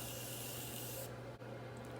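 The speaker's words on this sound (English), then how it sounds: "Now I'm gonna take the Morphe Continuous Setting Spray and we're going to spray the face." Morphe Continuous Setting Spray misted onto a face in a steady close hiss that runs for about a second before cutting off, leaving a faint quiet background.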